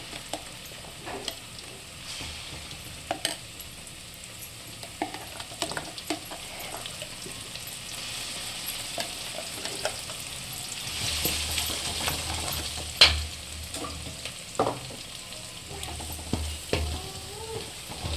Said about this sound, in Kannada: ಇದು ಚೆನ್ನಾಗಿ ತುಪ್ಪದಲ್ಲೇ ಫ್ರೈ ಆಗಬೇಕು